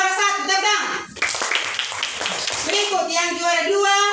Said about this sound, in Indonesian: Juara 1, tepuk tangan